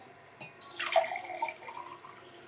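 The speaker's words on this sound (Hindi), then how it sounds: "इसके अंदर हम 1 गिलास पानी डाल देंगे" Plain water poured into a clean glass, a short close splash and gurgling trickle with a rising tone as the glass fills, quiet and alone.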